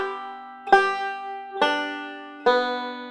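Banjo picking a measure of Cripple Creek with a pinch and a slide, three clear plucked chords ringing out at an even pace, close and alone.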